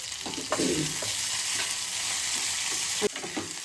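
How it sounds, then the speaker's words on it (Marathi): Potatoes sautéed in ghee for a fasting meal, a continuous close sizzle broken by scraping spatula stirs and a couple of louder knocks against the pan. "हे छान असे परतून घ्यायचे बटाटा खाली लागतो त्यामुळं सारखं परतायला लागणार आहे"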